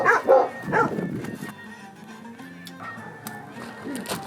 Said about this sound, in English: Here's a breed of dogs that dates back to Minoan times.